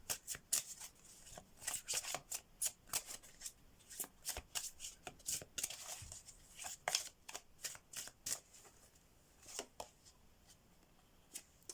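Oracle message cards from a love oracle deck are shuffled in the hands, giving a quiet, close series of rapid riffling and slapping bursts in an uneven rhythm, with no voices.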